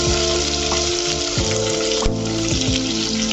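Vegetables sautéing in a hot pan for veg noodles, a loud, continuous close sizzle with a few sharp clicks and scrapes of stirring cutting through.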